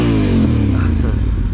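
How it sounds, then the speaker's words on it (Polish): A motorcycle engine roars loudly and close, a steady heavy drone with a slight pitch change as the bike passes, filling the whole short moment. "jest motocyklista."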